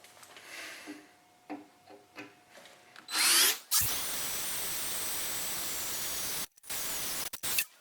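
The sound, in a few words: power drill drilling holes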